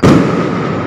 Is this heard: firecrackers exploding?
yes